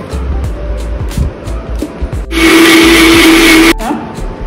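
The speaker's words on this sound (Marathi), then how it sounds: "आता हांव थोडे उदक घालून ग्राइंड करता।" Kitchen mixer grinder blending Goan xacuti masala of coriander, garlic, ginger, tamarind and green chilli with a little water, a loud steady whirring roar lasting over a second after clicks and clatter, then cutting off abruptly.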